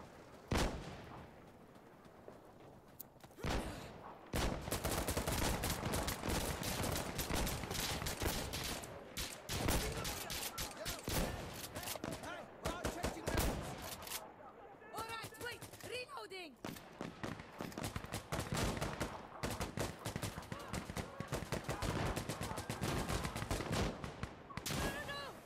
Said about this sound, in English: Loud 50 cal noises.